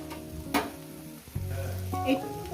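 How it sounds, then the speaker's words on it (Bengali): Small fish fry with potato and drumstick flowers, sizzling in a hot pan, with clinks and scrapes of stirring up close. "আর এক মিনিট ভাজবো"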